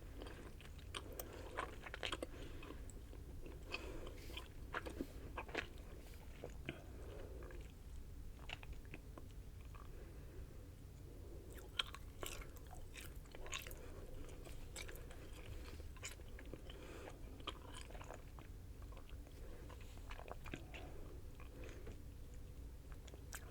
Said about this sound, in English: you want to chew it not till it's smooth, till it's chunky.